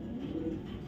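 Low, soft cooing from a young racing pigeon in a loft, a brief steady murmur heard close and fairly quiet, alone without speech.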